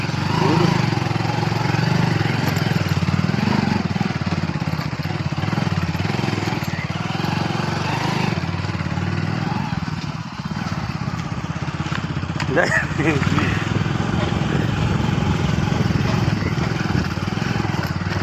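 An old motorbike engine runs steadily and close, a rough, constant mid-pitched chug lasting throughout, while people talk over it.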